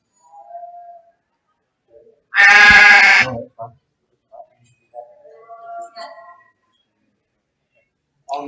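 At a junior livestock show, a hair sheep lets out one loud, close bleat lasting about a second, with fainter bleats and voices around it.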